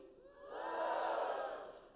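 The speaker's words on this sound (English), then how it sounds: "Give me a cheer." A conference audience cheering on cue, a brief swelling roar of many voices that builds, peaks and fades within a couple of seconds, somewhat distant and moderately loud.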